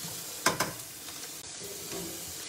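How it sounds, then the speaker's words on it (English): A spoon stirs pieces around in oil in a frying pan, giving a couple of sharp scraping clinks near the start followed by a soft, steady sizzle. "we're just going to give these a little stir to coat them evenly with the oil"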